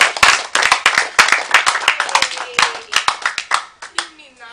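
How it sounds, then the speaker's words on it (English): One person claps their hands in a quick, uneven series of sharp, close slaps, pausing briefly now and then, with a voice speaking between the claps. "Let me clap."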